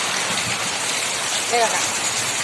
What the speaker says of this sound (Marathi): आज सातारला पाऊस पडलाय